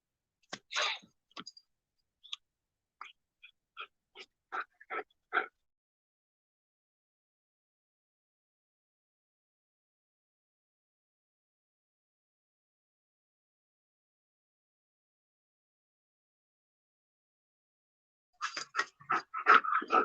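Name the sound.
dogs playing with a toy, panting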